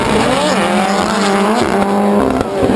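Loud rallycross race car engines roar and downshift under braking, with rising and falling engine whine close by and a brief tire squeal.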